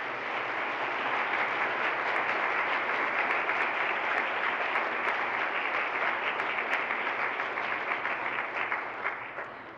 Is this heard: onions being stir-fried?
no